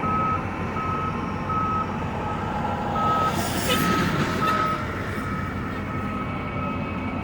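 A yard jockey truck reverses under a container crane at a rail ramp, its steady reversing beeps sounding repeatedly over continuous engine rumble and broad outdoor yard noise.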